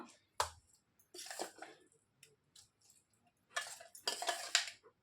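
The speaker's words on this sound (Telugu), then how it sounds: "ఇప్పుడు ఈ పచ్చడిని ఈ బౌల్లోనికి తీసేసుకుంటున్నాను." Dry prawn chutney spooned into a bowl, giving a few sharp, quiet clinks and scrapes of a spoon against the dish, spaced out with short silences between them.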